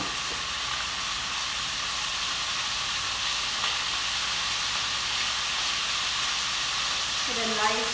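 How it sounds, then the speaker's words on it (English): Chicken and ginger sizzle steadily in a hot skillet, a continuous broadband frying hiss that stays even throughout with no talk over it. "So we'll get this in the skillet."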